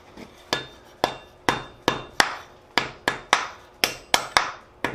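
A forged steel candy cane hammered on an anvil, about a dozen sharp ringing blows in a steady rhythm, close and loud with no talk.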